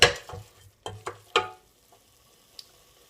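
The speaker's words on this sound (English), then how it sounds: "you mix this around just very lightly for about a minute or so, just so all the spices take hold" Onions and spices frying in a pan for an okra curry are stirred lightly, giving a few close scraping strokes of a utensil over faint sizzling that quickly fades toward quiet.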